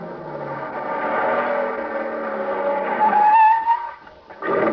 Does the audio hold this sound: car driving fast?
yes